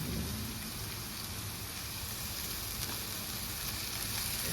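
Beans, carrots, cabbage, capsicum and potatoes sauté in a pan for samba rava kozhikattai, giving a dense, constant, loud hiss like rain without any pause.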